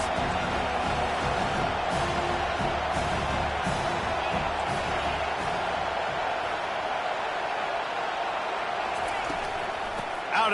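Football video game crowd cheering behind the defense on a big third down, a steady roar of massed voices with scattered whoops, heard under a commentator's voice.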